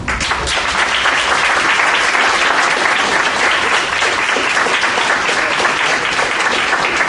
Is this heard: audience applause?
yes